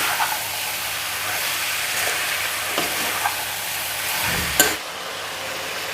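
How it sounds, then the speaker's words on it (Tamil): Chicken fries in a pan over a high flame, giving a steady loud sizzle with occasional scrapes of stirring and a sharper clatter near the end, close by and with no speech. "ஹை ஃப்ளேமில் வச்சு மிக்ஸ் பண்ணணும்."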